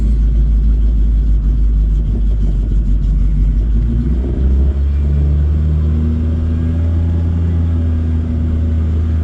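A Suzuki Samurai with a Toyota 3K carburetor kit, freshly cold-started, rumbles loudly up close as it pulls off for a test drive, the engine note rising and settling into a steady drone.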